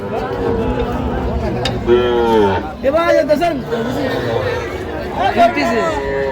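Sahiwal cattle low and moo several times amid a crowd of people chattering nearby at a cattle sale in Satkhira, Bangladesh, voices overlapping the animal calls.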